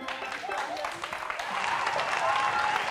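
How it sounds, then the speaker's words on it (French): An audience claps in a studio crowd, a dense patter of applause that grows a little louder over a few seconds, mixed with voices. "Applaudissez-moi là, c'est fini."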